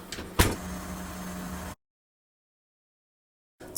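A baking tray slides into a home kitchen oven and the oven door shuts with one sharp close thud, then a low hum before a sudden cut to silence.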